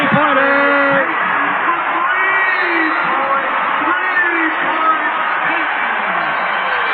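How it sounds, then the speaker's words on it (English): A basketball crowd at a Sonics vs Lakers game roars and cheers in a sustained, thin broadcast-quality wash, with a voice talking over it. "Listen to this crowd now."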